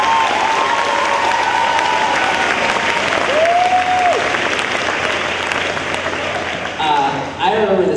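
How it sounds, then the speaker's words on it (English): Audience applause at a high school graduation ceremony, a dense sustained roar of many hands clapping throughout, with voices and cheering mixed in near the end. "Round of applause for yourself."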